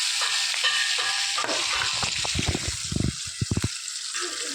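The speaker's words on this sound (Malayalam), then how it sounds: "റെസ്റ്റ് ചെയ്യാൻ വെച്ച ചിക്കൻ പൊരിക്കുകയാണ്." Chicken pieces fry in hot oil with curry leaves in a pan, a steady close sizzle with crackling bursts and a few sharp spatters or stirring clinks toward the middle.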